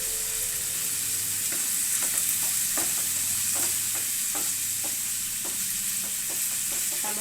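Tomatoes with salt sizzle and fry steadily in a pan, with a series of distinct spoon scrapes and stirring taps over the continuous close sizzle and no talking.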